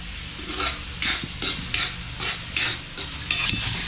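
Onion frying in a pan for a Malvani vegetable dish, a soft continuous sizzle broken by regular scraping stirs, about seven strokes in quick rhythm, close by.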